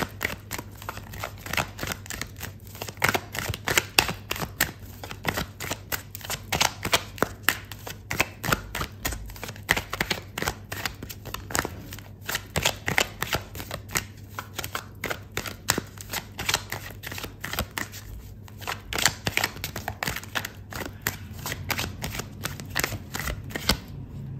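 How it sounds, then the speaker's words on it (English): Tarot cards are shuffled continuously for a long stretch, a dense run of crisp riffling and flicking close up, with a steady low hum beneath and nobody speaking. "I'm gonna pull out another card for you"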